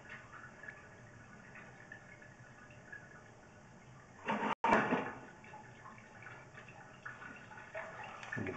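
Water trickles faintly through a sewer line during a camera inspection, a quiet steady flow broken midway by a sharp knock and a brief dropout.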